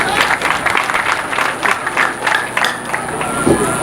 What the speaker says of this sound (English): They indeed deserve a thunderous hand clap.